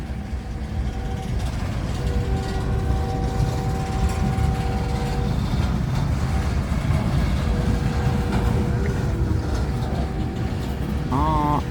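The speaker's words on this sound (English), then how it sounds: "The other train's moving." Freight train moving past at a distance, a continuous low rumble and rolling rail noise with faint squealing tones, steady throughout with no talk.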